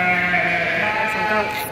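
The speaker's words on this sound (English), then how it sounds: "not so sure about these sheep wearing coats." Sheep wearing coats bleat in a long, wavering, nasal call that rises and holds, loud and close, with faint background noise near the end.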